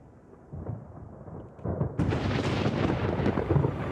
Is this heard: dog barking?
no